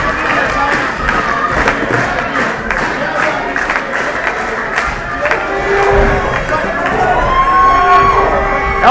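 Loud wrestling arena crowd cheering and shouting throughout, a dense roar of voices with scattered claps, thumps and whistles, building slightly toward the end, with a commentator talking over it.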